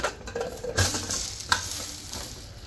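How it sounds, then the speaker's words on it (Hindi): Onions sizzle and crackle in hot oil, with a couple of sharp stirring scrapes against the pan. "तो यहाँ पे थोड़े से ऑयल में मैंने प्याज डाल दिए"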